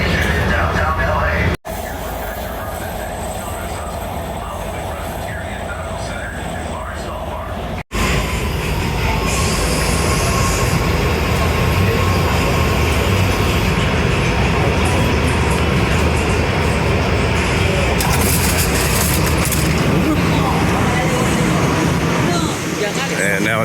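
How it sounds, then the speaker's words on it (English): LA Metro rail train riding through Los Angeles toward Union Station, a steady loud rumble and rattle of the moving car with brief pauses near the start, a constant roar carrying on throughout. "This train's final destination is Union Station in downtown LA."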